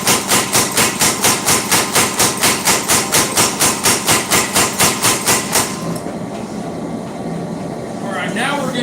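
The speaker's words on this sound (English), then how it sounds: "back under the power hammer, do a little more forging" A power hammer forging a blade pounds in a steady, rapid rhythm of loud, close blows for several seconds, then stops, leaving workshop hum and faint scraping.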